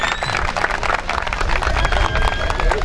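Loud, dense applause from a crowd at the 2015 Sokutaş village festival, continuous clapping mixed with crowd noise, filling the whole stretch without a break.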